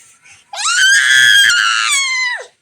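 A child lets out a single loud, sustained high-pitched scream lasting about two seconds, close by.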